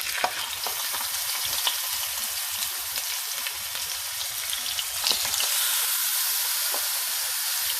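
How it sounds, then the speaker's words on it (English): Thai pork ribs sear in a hot pan with a steady, dense sizzle and crackle, close and continuous, swelling slightly louder near the end, with no voices. "Let this side sear."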